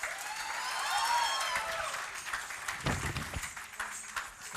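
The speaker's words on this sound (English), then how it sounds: "give a huge round of applause to Sarita." An audience at an anniversary stage show applauds after a performance, a dense wash of many hands clapping at moderate distance that thins and grows more scattered toward the end.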